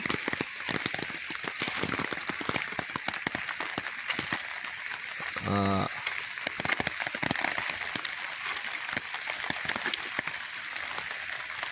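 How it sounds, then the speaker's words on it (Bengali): Rain falls steadily and densely, a constant hiss of drops with sharp patters, and a short tonal burst partway through. "তো অনেক বৃষ্টি আসতেছে"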